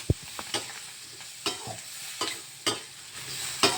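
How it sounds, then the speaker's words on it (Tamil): Tomato, chillies, onion and curry leaves sauté in a pan with a steady soft sizzle, punctuated by sharp spatula scrapes and clacks against the pan every second or so. "கொஞ்ச நேரம் வதக்கி விட்ருவோம்"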